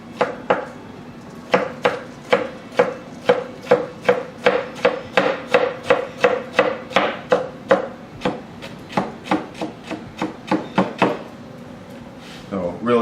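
A Damascus nakiri knife chops through a pepper on a cutting board, about two dozen crisp, evenly spaced knife strikes in a steady rhythm, close and fairly loud, with a short pause partway and another near the end.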